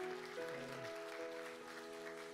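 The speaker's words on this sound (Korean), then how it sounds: "큰 박수로 축복하겠습니다" Applause from a church congregation at a young adults' worship service in Irvine, a dense, fairly quiet wash of clapping under sustained tonal chords from instruments.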